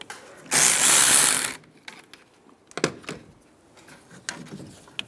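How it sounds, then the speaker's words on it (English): A socket ratchet loosens the positive battery terminal nut on a 2007-2013 Chevy Silverado, giving a loud burst of rapid clicking followed by a few softer, scattered metallic clicks and knocks. "Remove the positive terminal. Use a 10mm socket."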